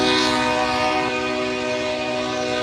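A train blows a long, steady, loud horn near a road crossing by the Scotts Bluff County fairgrounds in Mitchell, Nebraska, sustained chord over rumbling rail noise.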